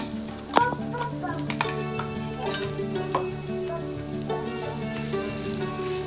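Thecha, a chili chutney, frying in two spoonfuls of hot oil gives off a steady, fairly quiet sizzle, with a few sharp clicks and clinks of the pan and spoon scattered through it.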